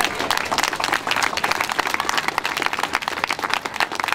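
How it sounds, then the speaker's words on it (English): A memorial gathering crowd applauds steadily, with dense overlapping hand claps at a close, even loudness throughout the few seconds. "I love applause."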